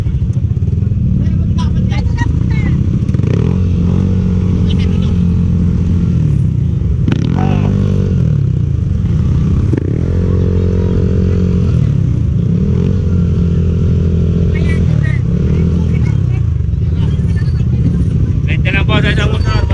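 Several motorcycles on a road trip toward the Daraitan River in Tanay, Rizal idle and rev nearby with engine drone and clatter, while people talk loudly over the noise.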